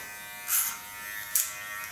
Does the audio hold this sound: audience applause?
no